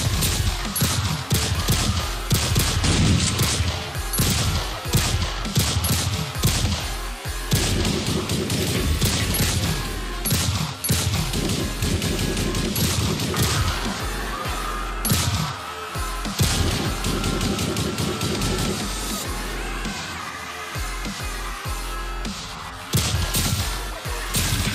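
Rapid bursts of gunfire crackle through a violent raid as doors are cleared, dense and loud throughout with heavy thuds and crashes mixed in, no voices.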